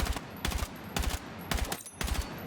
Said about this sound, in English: watch, if I even do burst fire